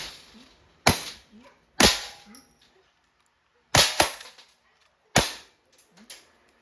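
Umarex airsoft Glock 17 Gen 5 firing at a bottle: four sharp, loud cracking shots at uneven intervals, each followed by short clattering rattles and brief decays, with quiet gaps between.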